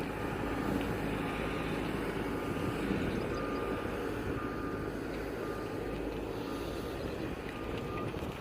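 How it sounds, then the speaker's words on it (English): A motor grader with a trench shoe attachment on its blade works on a road-widening job, a steady heavy diesel rumble with a faint, regular reversing beep repeating beneath it. "second motor grader comes along with a special shoe attachment on their blade to finish making the trench for the trench widening"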